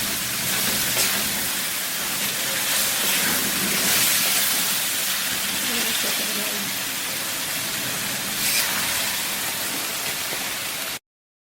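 Premade sauce hits stir-fried prawns in a hot pan and sets off a loud, continuous sizzling hiss that holds steady and dense from start to end, then cuts off abruptly.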